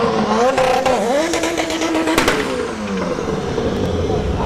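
A nitrous Honda Civic launches at a drag strip, a loud high engine whine rising and shifting pitch with crackling pops, heard from nearby amid crowd noise and a voice talking.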